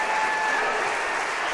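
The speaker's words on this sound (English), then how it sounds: "As the Waltonville fans give their regulars a rousing round of applause" A crowd of home fans at a boys' high school basketball game applauds their team's regulars. The clapping is dense and steady, sustained through the whole moment without a break and with no voice above it.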